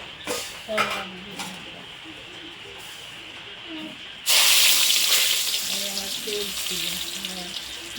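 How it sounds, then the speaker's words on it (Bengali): Heavy rain pours outside on a very rainy day. A sudden broad, loud, steady hiss sets in midway after some light clinks of dishes and utensils in a kitchen. "এই যে আওয়াজটা পাচ্ছ তোমরা শস আওয়াজটা এটা কিন্তু ভীষণই বৃষ্টি হচ্ছে আজকে প্রচুর বৃষ্টি"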